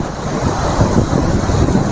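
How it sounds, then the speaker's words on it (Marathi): Rough, swollen sea waves churn along the Shrivardhan coast at high tide during heavy rain, a loud, dense, unbroken wash of surf with wind buffeting close to the microphone. "पाऊस तर चालू आहे पण समुद्राचा हा रौद्र रूप बघा खवळलेला आमचा हा समुद्र"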